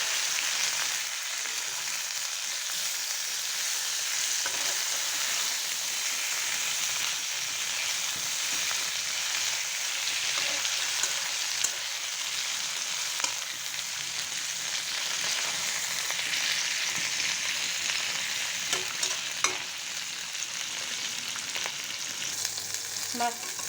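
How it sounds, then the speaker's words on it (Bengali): Koi fish fries crisp in hot oil in a pan, turned over partway through, with a continuous loud sizzle and occasional stirring crackles and no talking. "মাছটা আমার এক পাশ হয়ে গেছে। এখন আমি উল্টিয়ে দিচ্ছি।"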